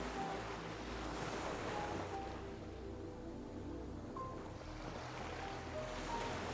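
Ocean waves rolling onto a Sri Lankan bay beach with gentle surf, a continuous soft wash of breaking water mixed with gusty wind buffeting the microphone, steady and fairly distant, with no voices.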